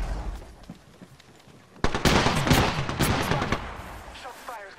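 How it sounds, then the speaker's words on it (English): Gunfire in the video game Apex Legends, a loud, dense burst of rapid shots erupting after a quieter stretch and rattling on for several seconds. "Shot fires at me."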